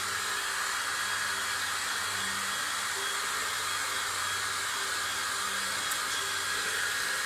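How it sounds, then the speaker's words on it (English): A hair dryer blows with a steady, loud rushing whir and hum, continuous from start to finish. "Let me just dry this with the hairdryer."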